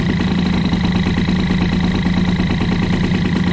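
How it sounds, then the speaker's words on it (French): CPI moped engine fitted with an Airsal 70 kit idling after warming up, a steady, close, buzzing two-stroke drone with even rhythmic pulsing throughout. "J'ai laissé tourner le moteur pendant que je rangeais tout"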